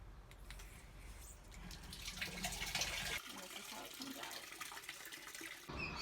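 Water running into a washing machine tub while doing laundry in the Dominican Republic, a continuous splashing rush that shifts in tone partway through, fairly close and moderately loud.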